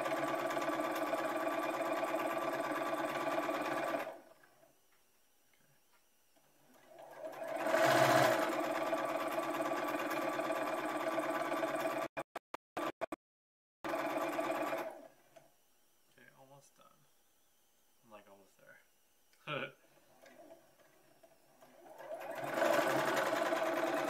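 A sewing machine runs a long seam in steady motor bursts, with gaps between runs and short start-stop stitching near the end, close and clear.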